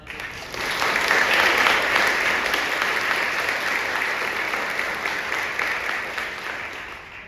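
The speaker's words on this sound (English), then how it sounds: "So I just want to give them a big round of applause." A big round of applause from the audience at an evening foundation event, loud dense clapping that swells in the first second and holds steady to the end.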